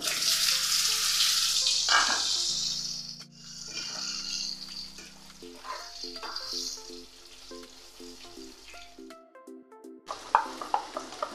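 Potatoes hit hot oil already seasoned with cumin seeds and bay leaf for a Bengali potol chingri dish, giving a loud, steady sizzle with spatula stirring and faint steady tones behind it.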